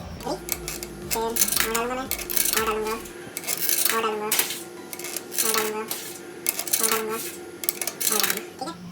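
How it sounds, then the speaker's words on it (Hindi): Coins drop into the slot of a coin-operated laundry washing machine in Canada, giving a series of bright metallic clinks and rattles, close and fairly quiet, repeating in small clusters. "अब हम डालेंगे कॉइन्स।"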